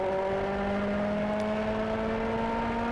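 Race car accelerating out of a turn on the M1 Concourse track, a loud, steady engine whine climbing gradually in pitch throughout, heard close up with no talking.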